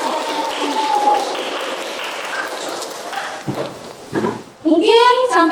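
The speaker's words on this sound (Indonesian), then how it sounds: "Kita tepuk tangan dulu untuk semuanya" A classroom of students clapping together at the end of a lesson, a dense patter of hand claps fading, followed by a brief burst of noise and excited voices.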